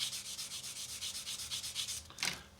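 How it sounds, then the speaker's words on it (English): A sanding sponge rubs back and forth across a plastic model kit window in quick, even strokes, about a dozen soft close scrapes, ending with a slightly longer, brighter rub. "So then what we do, pop in with our sanding sponge."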